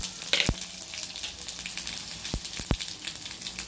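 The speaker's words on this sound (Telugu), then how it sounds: "నూనె వేడెక్కి జీలకర్ర ఆవాలు వేస్తున్నా" Cumin and mustard seeds crackle in hot oil for a tempering, with a constant close sizzle broken by several sharp spitting pops spread across the sound.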